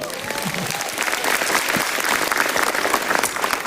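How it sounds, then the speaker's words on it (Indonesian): Applause from a stand-up comedy audience, a full burst of many people clapping that rises slightly after the first second and then stays lively and dense to the end. "tepuk tangan dong"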